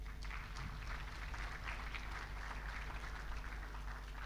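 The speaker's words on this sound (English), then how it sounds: "Let us clap for him." Summit audience clapping in a conference hall for an honored guest at a trade, investment and tourism event, a soft even patter of many hands heard from a distance over a low hum.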